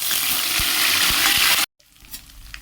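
Ground spice paste of garlic, onion and green chilli dropped into hot white oil in a kadai with whole cumin, bay leaf and whole garam masala, a loud dense sizzle with a few knocks that cuts off abruptly into quiet.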